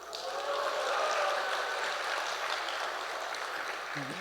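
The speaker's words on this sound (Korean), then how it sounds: "박수 2번 받아야 돼" Audience in a church hall applauding at a lecture, a steady broadband clapping wash filling the whole span at moderate level with no talk over it.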